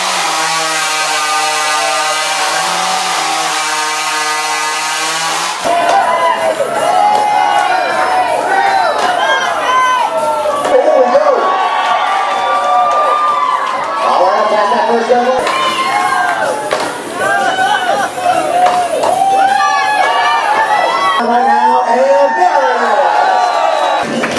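At a lumberjack competition, a chainsaw-like engine whines loudly for a few seconds. Then a large outdoor crowd cheers and shouts continuously in bursts while a voice talks over the noise.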